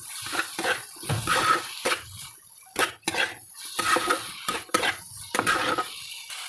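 Fried potatoes being stirred into masala in a cooking pan, giving irregular scraping and clinking of a spoon against metal, close by and moderately loud, in uneven bursts with no voices.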